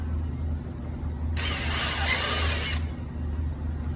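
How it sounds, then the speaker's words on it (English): A power drill countersinking a screw hole in wood whirs in one steady burst for over a second against a low background hum, then stops abruptly. "you need to countersink it with your drill or you'll split the wood"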